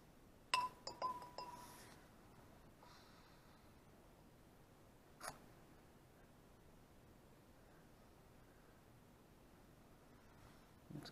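Ice cubes being set into glasses of fresh water and salt water give a few faint, quick glassy clinks near the start and another single clink later, over a very quiet background.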